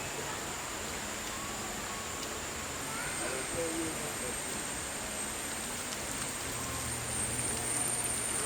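Rain falls steadily at night on a campsite among oil palm trees, a soft continuous hiss of drops with faint background night sounds throughout.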